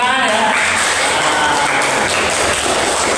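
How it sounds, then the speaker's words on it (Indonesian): Classroom applause from a group of school students, a dense, steady patter of many hands clapping without pause, with some voices mixed in underneath. "kita beri tepuk tangan ya"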